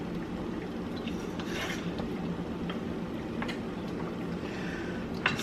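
A rice mixture being stirred in a pot, a steady soft scraping and rubbing with faint clinks of the utensil, close and continuous with no talk.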